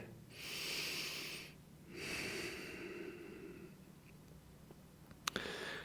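Slow, audible yoga breaths during a strong power flow session: two long airy exhales with a pause between, then quieter breathing and a brief sharp sniff near the end, close and alone with no talk.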